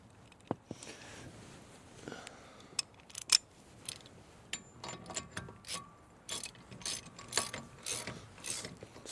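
Metallic clicks, scrapes and ratcheting as an axle nut is fitted during brake reassembly on a 1996 Chevy K2500 truck, irregular close taps and rattles at low level.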